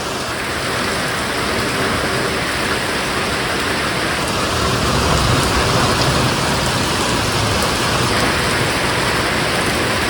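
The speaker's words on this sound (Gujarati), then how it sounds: "ભર ઉનાળા ધોધમાર વરસાદ હો ભાઈ ભવનાથમાં" Heavy summer downpour in Bhavnath, a steady dense roar of rain pouring down evenly and loudly for the whole stretch, with wind mixed in and no voices.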